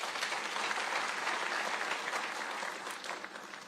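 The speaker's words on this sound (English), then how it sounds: "Let us clap for ourselves." The crowd at a university graduation ceremony in Nairobi applauds in a steady, sustained wash of clapping that sounds fairly faint and distant.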